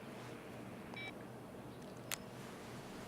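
A phone in the video game Life is Strange: Before the Storm gives a short cluster of faint electronic beeps and dialing tones, then a brief sharp click, set over a steady low background hum.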